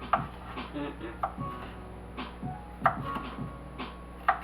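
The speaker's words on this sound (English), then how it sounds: "I'm going to slice this up, and always flip it over on this side because it's easier to cut that way." A knife cuts through beef with onions and mushrooms on a cutting board, giving irregular sharp taps and thuds close by, several strikes spread across the clip with quiet gaps between them.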